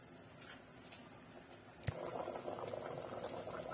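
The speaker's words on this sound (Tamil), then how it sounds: "பருப்பு சேர்த்து ஒரு கொதி வந்துருச்சு" A pot of spinach and lentils bubbling at a low boil, soft and steady after a small clink, quiet and close.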